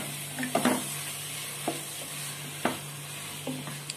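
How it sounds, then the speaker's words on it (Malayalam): Beef stirred with masala in a pot gives a faint sizzle beneath a few distinct scrapes and clunks of a spoon against the pot, spaced irregularly over a low steady hum. "ബീഫ് നല്ലപോലെ ഒന്ന് മിക്സ് ചെയ്ത് കൊടുക്കണം."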